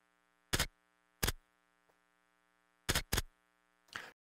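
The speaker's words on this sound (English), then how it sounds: "but I think that's the sound of a stapler." Stapler strikes sampled as percussion in a song sound as five sharp, crisp clacks: two spaced hits, a close pair later, then a softer, noisier snap at the end, all separated by near silence.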